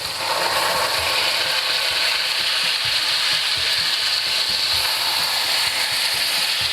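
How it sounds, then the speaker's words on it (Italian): Sausage sizzles hard in a hot pan as wine is poured in to deglaze, a loud, steady, close hiss and crackle with no talking. "la salsiccia come sentite sta sfrigolando bene, la sfumo con un po' di vino"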